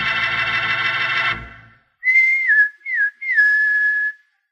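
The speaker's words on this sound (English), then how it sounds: "Sounds like a pal of yours whistling for you" Three rising-and-falling whistles from one person follow a loud burst of music that cuts off, with short pauses between the whistled calls, in the 1953 radio drama Adventures of Wild Bill Hickok.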